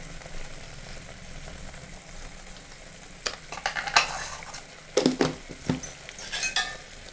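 Green peas curry with masala, turmeric and salt is stirred in a pan over a constant soft sizzle, with clusters of close spoon scrapes and knocks in the second half.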